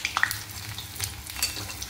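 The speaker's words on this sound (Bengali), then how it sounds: "বড়াগুলো হয়ে গেছে ভাজা।" Crispy sabudana (sago) vadas fry in hot oil with a steady, crackling sizzle, and brief stirring scrapes break in near the start.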